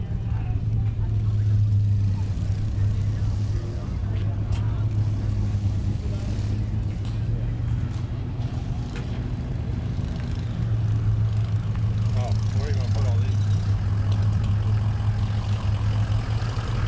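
A 1940 Willys engine runs at a steady, low, throbbing idle, close and continuous throughout, with faint voices in the background.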